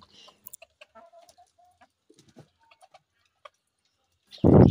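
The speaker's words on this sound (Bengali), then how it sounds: "এই যে দেখুন মুরগিগুলো খুব স্বাচ্ছন্দ্যে খাবার খাচ্ছে" Scattered soft clucks and pecking taps from chickens feeding nearby on a farm, ending in a sudden loud burst of noise.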